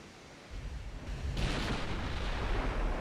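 Warship naval guns firing in Ultimate Admiral Dreadnoughts: a deep, booming salvo rolls out into a sustained low rumble, fairly loud, with no talk.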